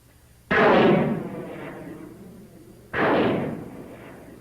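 Two loud whooshing launch blasts of surplus Air Force rockets fired from homemade launchers in the hills of Laos, each a sudden burst that roars and trails off over about two seconds, outdoors and mid-distance.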